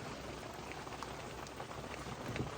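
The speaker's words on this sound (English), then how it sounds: "then it started pouring" Heavy rain pours down steadily outdoors during a thunderstorm at an old mine site in central Oregon, a dense, continuous hiss of drops drumming on a surface, close and unbroken for the whole stretch.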